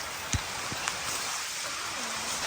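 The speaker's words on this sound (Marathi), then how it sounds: "तुम्ही बघू शकता किती पाऊस येत आहे" Steady rain hissing across the whole clip, with a few louder drops or taps standing out near the start.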